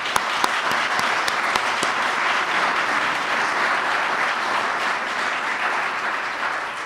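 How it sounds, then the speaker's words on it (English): A crowd applauds at a city awards ceremony honoring Yonkers Women of Distinction, with steady, full clapping that fills the room evenly from start to finish, a few sharper claps standing out early on. "Let's have a round of applause for this."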